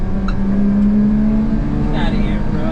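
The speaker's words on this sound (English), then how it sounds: "Damn, this bus is trying to race me." A bus engine pulls hard and accelerates alongside a Honda Acty kei truck with full-time four-wheel drive and a dump bed, a steady low drone that stays loud and close throughout.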